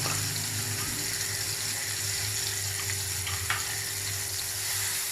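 Steady sizzling of spices with garlic and ginger paste frying in a hot pan, a constant crackle close up with a faint low hum behind it.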